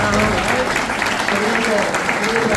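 Audience applause at a regional amateur football awards ceremony in a hotel hall, a dense, steady wash of clapping that persists throughout while a voice speaks over it.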